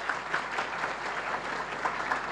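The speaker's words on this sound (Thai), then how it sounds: "ไหนปรบมือดังๆนะคะเจ้าของกิฟเฟอริน" An audience at a seminar applauds loudly, a brief dense wash of clapping from many hands with no voices over it.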